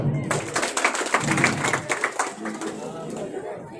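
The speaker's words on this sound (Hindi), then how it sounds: "जोर से ताली बजाओ" A crowd at a live public event with a politician claps in a scattered burst that gradually thins out, mixed with crowd chatter and voices.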